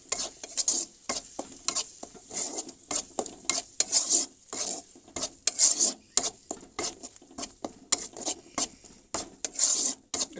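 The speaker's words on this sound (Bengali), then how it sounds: "এখন আমরা এটাকে সুন্দর করে এটাকে মাখাবো" A spoon mixes hilsa fish, raw banana and potato curry in a pan, giving quick, irregular scraping and clattering strokes over a soft sizzle, loud and close with no talking.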